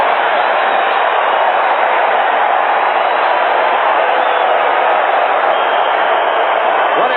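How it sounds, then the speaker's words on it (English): Roar of a packed football stadium crowd reacting to a Ted Hendricks sack for the Oakland Raiders, a steady dense wall of cheering and shouting held at constant loudness. "Listen to the crowd react to the Ted Hendricks sack."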